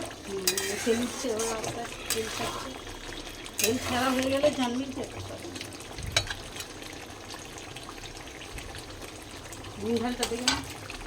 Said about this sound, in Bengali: আমার মা মাংস কষা ছিল